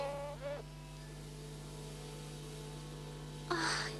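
A wasp buzzing in a 1983 animated film with a Slovak dub and poor VHS quality: a steady, thin drone holds throughout, with brief louder chirps at the start and near the end.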